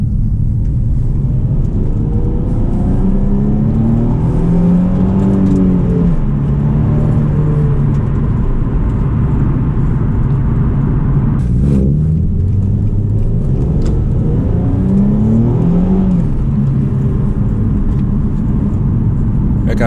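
A car engine runs and revs under load on a large road, with several rising and falling rev sweeps over a steady low rumble, close and loud throughout, no talk.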